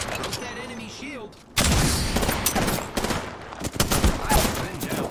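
Rapid bursts of gunfire from an Apex Legends match crackle in dense, repeated volleys, starting quietly then growing loud and close, with someone talking over the shots.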